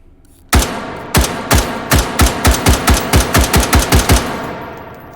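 An AR15 rifle fitted with an optic and a 20-round waffle mag fires in the VR shooting game H3VR. Fourteen loud, sharp gunshots ring out in a steady, fairly quick semi-automatic rhythm, each with a short ringing tail.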